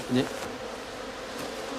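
Honey bees buzz steadily around a cluster of about twelve hives at an apiary, a continuous close drone that holds at an even level throughout.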